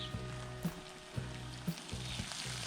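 Chicken legs frying in a kazan, a steady close sizzle with faint scraping stirs recurring about every half second throughout, no voices.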